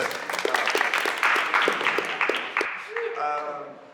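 Audience applause at a jazz jam session with saxophonist Joshua Redman, dense clapping filling the room for about three seconds before fading into a sustained instrumental note.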